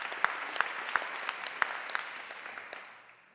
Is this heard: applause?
yes